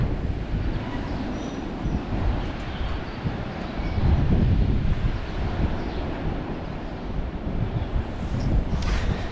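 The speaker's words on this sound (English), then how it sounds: "I don't know if you guys can even hear the wind out there, but it is howling out there." Steady, strong wind rumbling and buffeting outdoors on a farm, a continuous low roar that swells and eases slightly with no talking.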